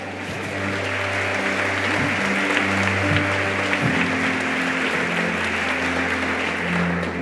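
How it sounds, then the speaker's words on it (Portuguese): Congregation applauding during a church worship service, a steady dense wash of clapping held over sustained organ or keyboard chords, continuous and fairly loud throughout. "dê um aplauso ao Senhor"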